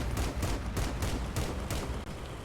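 Gunfire in the vehicle combat game Crossout: rapid, steady bursts of shots run continuously and loudly throughout, a dense fusillade with regular sharp cracks and no talk.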